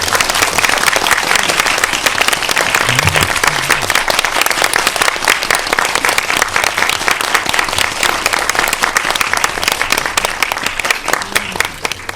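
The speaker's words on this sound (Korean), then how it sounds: "힘찬 박수로 감독님과 배우분들 모셔보겠습니다" Enthusiastic cinema audience applause at a CGV film screening talk, welcoming the director and cast on stage: loud, dense, sustained clapping from a large crowd that continues unbroken throughout.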